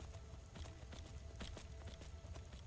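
Faint, rapid hoofbeats of a horse in Skyrim clip-clop in a quick running rhythm up a mountain over a low rumbling background, with no talking.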